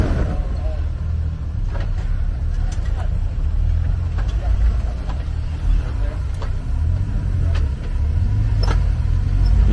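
Off-road vehicle on 15-psi aired-down tires climbing a trail obstacle near Buena Vista, Colorado: a continuous low engine rumble that swells and dips with throttle, moderately close, with occasional clanks and rattles and people chatting faintly over it.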